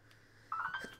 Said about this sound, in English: you can tell that was a notification